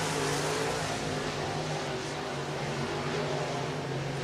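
Race cars run on the oval at Whynot Motorsports Park in Meridian, Mississippi, a steady loud engine drone with a low harmonic hum that holds for the whole stretch, no voices over it.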